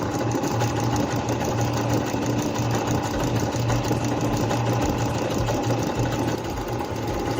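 A Singer C5605 electronic sewing machine stitches fabric in one steady, close run, its motor whirring evenly with a fast regular needle clatter and no pauses or voices throughout.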